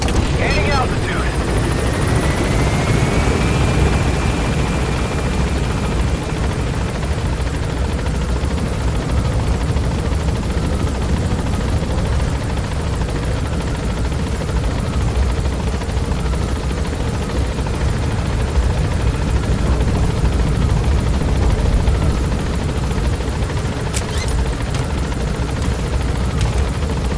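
Helicopter climbing in the video game Metal Gear Solid 5, a loud steady rotor and engine roar filling the whole stretch, with brief game sound effects near the end.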